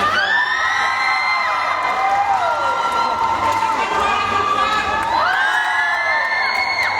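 A packed stadium crowd of Vientiane supporters at Laos's 12th National Games cheers loudly and continuously, with whoops, shrill whistles and overlapping shouts.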